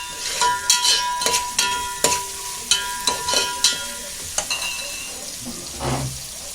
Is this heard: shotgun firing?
no